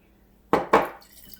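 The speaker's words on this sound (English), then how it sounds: "I'm just going to rinse my can a little bit with that water" A can is rinsed with a splash of water in a home kitchen: two quick, loud sloshing bursts close by, then a softer trickling tail.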